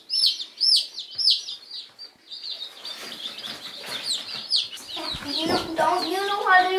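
Chicks of two different chicken breeds peep in high, rapid chirps, close by, while people talk and move in the background during the second half.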